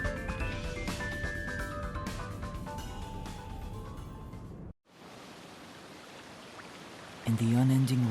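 Steady rain pours through a neon-lit city in a detective video game, a dense hiss under music that cuts out before the rain continues alone, with a low tone rising at the end.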